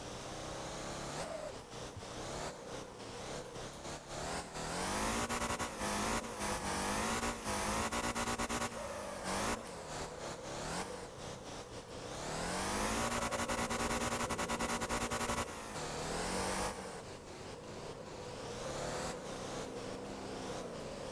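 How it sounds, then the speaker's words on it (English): A car engine in the Motor Town driving game revs hard and repeatedly during clutch-kick drifting, loud, continuous, rising and falling pitch sweeps with brief tire squeal, no talking. "Clutch kick."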